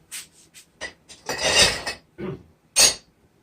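A small multi-grade hand rasp works across wood in short, scraping strokes, one longer rough pass in the middle, loud and close with quiet gaps between strokes.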